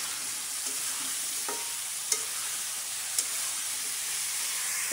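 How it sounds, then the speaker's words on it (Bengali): Chicken pieces hit a pan of cooked-down spices for chicken bhuna khichuri, a steady close sizzle and hiss of frying with a few sharp clicks of stirring, no talking. "এখন মাংসগুলো দিয়ে দিব"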